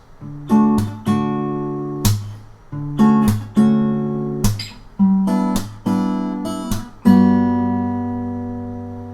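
A plucked guitar intro: strummed chords and ringing single notes with a deep bass note underneath, unfolding in a steady phrase with no voices.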